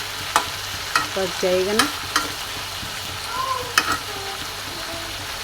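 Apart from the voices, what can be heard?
stir-frying chicken and pumpkin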